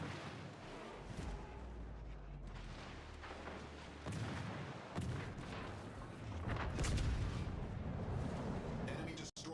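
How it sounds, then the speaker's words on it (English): Deep booming blasts and rumbling explosions from a naval battle video game, an enemy destroyer blowing up amid continuous heavy gunfire, loud and dense with a voice talking over parts of it. "Enemy destroyer blown up."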